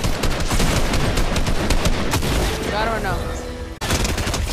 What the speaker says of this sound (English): They're shooting in that building over there.